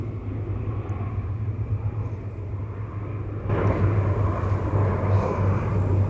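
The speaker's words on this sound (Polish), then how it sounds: "Zobaczcie, jakieś samoloty tam lecą." A steady low rumble of aircraft engines overhead, rising louder about halfway through, with a constant low hum underneath.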